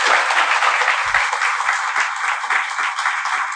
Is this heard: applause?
yes